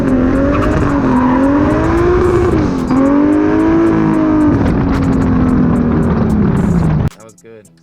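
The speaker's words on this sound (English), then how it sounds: "I heard a little rev limiter too" A drift car spins through a donut with its engine droning loudly and steadily, pitch wavering as it holds near the rev limiter, tire noise mixed in, and voices talk over it before it cuts off abruptly near the end.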